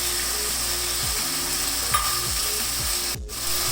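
Chicken mince with finely chopped green chillies and lemon juice sizzles and fries steadily in a pan, with repeated stirring scrapes throughout and a brief louder hiss near the end.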